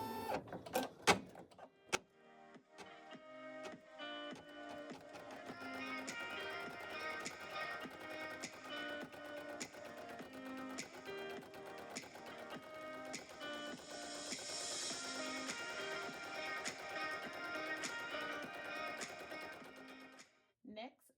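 An embroidery machine stitches the outline of each letter for 3D puff embroidery patches, giving a steady, fast mechanical chatter that runs for about eighteen seconds after a few sharp clicks at the start.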